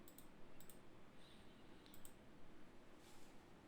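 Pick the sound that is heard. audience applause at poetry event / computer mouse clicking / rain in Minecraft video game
computer mouse clicking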